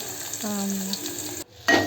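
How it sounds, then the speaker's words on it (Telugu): Spices and curry leaves sputter in hot tempering oil, a close, steady sizzle that ends with a brief pause and then a sharp fresh burst of crackling. "అది కొంచెం ఫ్రై అయిన తర్వాత కరివేపాకు వేసుకోవాలి"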